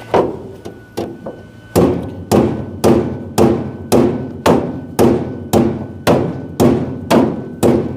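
Hammer blows flattening a piece of metal before welding on a drag car project: a few lighter taps, then a steady run of about a dozen loud, evenly spaced heavy strikes, close and alone.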